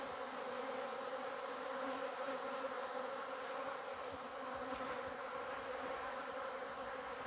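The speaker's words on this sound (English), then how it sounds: "a couple puffs of smoke would solve this bees being in my face problem" Honeybees buzz steadily and densely around a beekeeper during an open hive inspection, a continuous close swarm hum with no talking.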